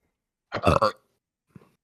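A single sharp sneeze bursts out close by, followed a moment later by a short, faint sniff or catch of breath.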